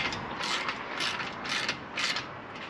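A ratchet clicks in four quick bursts while tightening a nylon lock nut on an SUV roof rack crossbar, close and crisp with brief pauses between strokes, no speech.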